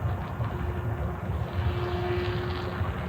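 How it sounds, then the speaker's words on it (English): An E-flite Gee Bee R-2 1.0m electric RC plane flies at full throttle, its propeller making a steady whining drone with a thin rising tone as it passes fairly close overhead. "It could be that the prop is stalling because I'm at full throttle."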